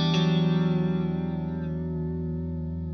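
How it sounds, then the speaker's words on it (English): An electric guitar chord goes through an Eventide MicroPitch pedal set for a subtle pitch shift that gives a chorus-like widening. A single chord rings out and slowly decays with a gentle shimmering wobble, alone and close. "Gives us almost a little bit of a chorusing sound."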